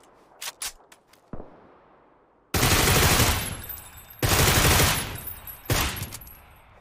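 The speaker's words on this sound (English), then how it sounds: "He's shooting someone else." Automatic gunfire in PUBG, a few faint distant shots and then two long loud close bursts followed by a shorter one, with no talk.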